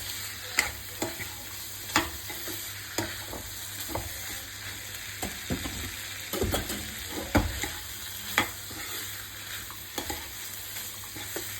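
Spice masala for rajma curry frying in a pan while being stirred, a soft steady sizzle broken by scraping stir strokes at irregular intervals, close and fairly quiet with no voices.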